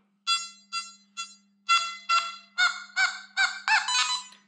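A Nokta Makro Mini Hoard metal detector sounds its target tone over a large silver object. Short beeps repeat close and clear, growing longer and denser and shifting in pitch toward the end, over a faint steady hum.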